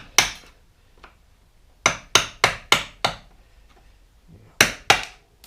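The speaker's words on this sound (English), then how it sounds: "You can just take a flat head and hit it, and it takes all the big chunks off." Sharp metal-on-material strikes as a flat head screwdriver is hammered against brittle buildup on a dirt bike frame, chipping off chunks: a single hit, a faint tap, a rapid run of four blows, then two more, close and loud.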